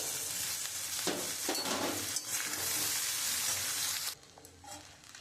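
Cooked rice goes into a pan of fried vegetables for fried rice, giving a loud, close sizzle with stirring and scraping that drops off sharply near the end.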